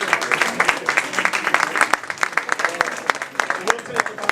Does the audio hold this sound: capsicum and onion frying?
no